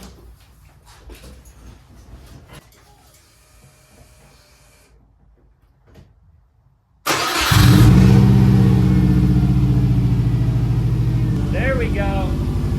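2003 Subaru WRX bugeye fitted with a downpipe cranks and fires after quiet fumbling, then settles into a loud, steady, raspy idle up close for several seconds, with a voice briefly heard over it.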